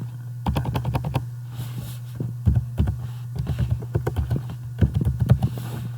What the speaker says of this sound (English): you backspace to delete the word, and you type your name here